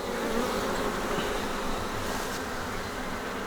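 Honeybees hum steadily at an open beehive, a dense, continuous buzz close up that holds without pause, with no talk over it.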